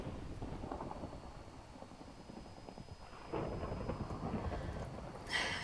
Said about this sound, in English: I don't like the thunder.